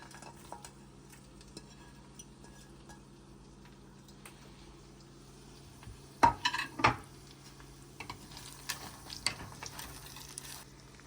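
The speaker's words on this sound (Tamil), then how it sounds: "சால்ட் ஆட் பண்ணி நல்லா வந்து இதை வதக்கி விட்டுடுவோம்" Chillies, curry leaves and garlic sauté in a pan with a faint, steady sizzle. Around the middle, a spoon scrapes and clinks against the pan, with a few soft knocks near the end and no talking.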